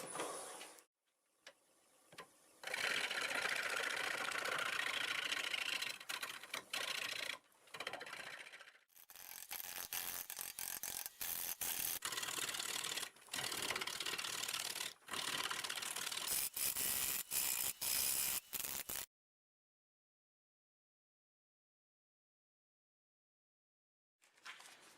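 A freshly ground 5/8 bowl gouge cuts rugged sweet gum wood on a lathe, giving a steady, loud scraping, chattering cut broken by short pauses, then stopping into silence near the end.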